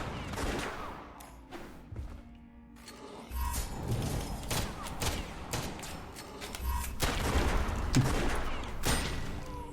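Gunfire in the gothic western shooter West of Dead: bursts of sharp, punchy shots in quick clusters, mixed with heavy thuds and mechanical clatter, fairly close and loud.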